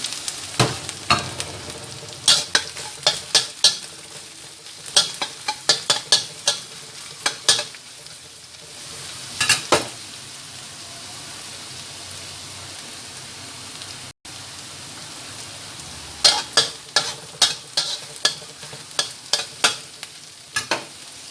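Onion and garlic sautéing in a pan for pancit lomi: a steady sizzle broken by bursts of sharp clinks and scrapes as a utensil stirs against the pan, with quieter stretches between.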